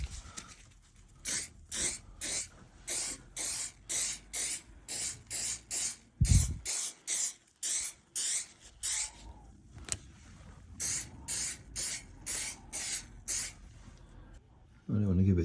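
Rust treatment aerosol hisses in rapid, repeated short bursts onto the rear jacking point of a Range Rover L TDV8, close up, with a brief pause midway and a low thump near the middle.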